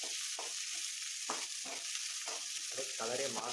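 Onions fry until golden for tempered curd rice, a close, continuous sizzle broken by repeated stirring scrapes in a loose rhythm.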